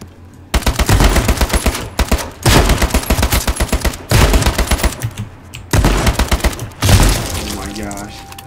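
Gunfire from the video game H1Z1: loud, close bursts of rapid automatic shots in several rounds separated by short pauses, with game speech mixed in near the end.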